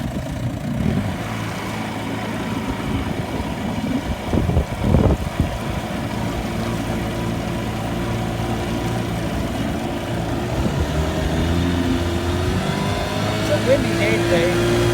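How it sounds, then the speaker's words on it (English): Wind buffets a heavy old 1968 Lund C14 boat running a 1972 Chrysler 20 hp outboard motor, giving a steady low rumble with gusty surges beneath a speaking voice throughout. "Windy day today."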